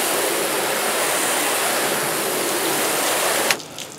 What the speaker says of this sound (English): let me hit it again with some water